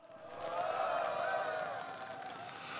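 Sustained applause and crowd noise from union members at a KCTU labor rally for labor reform legislation, a broad steady wash of clapping that swells early and holds at moderate level throughout.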